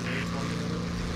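A steady propeller plane engine drone from War Thunder, a loud continuous buzzing hum with a fixed pitch and no breaks throughout the short stretch.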